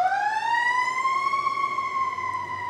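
A passing emergency siren heard in a city, one long rising-and-falling wail with clear tones, steady and moderately loud throughout, no talk over it.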